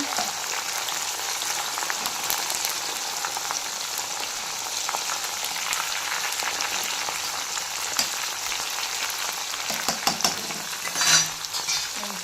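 Homemade herbal hair oil with fenugreek simmers and sizzles in a pan in a steady crackling hiss, with occasional stirring and scraping clinks, moderately close and without speech.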